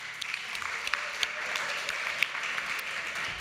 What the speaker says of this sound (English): Please give the panelists a round of applause.